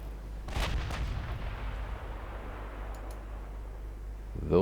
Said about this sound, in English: Those shots went wide.